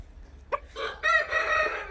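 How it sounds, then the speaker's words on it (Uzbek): A cockerel of a large Mambo-type breed crows once nearby, a short opening note swelling into a loud, sustained, wavering cock-a-doodle-doo with no talk over it. "bu 5-nomerdagi xo'rozimiz"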